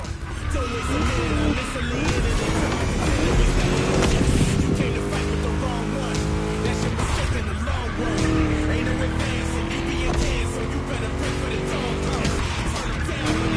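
A V8 race car in The Crew video game, a loud continuous engine roar rising and falling through gear changes, with tire squeal and a voice speaking over it.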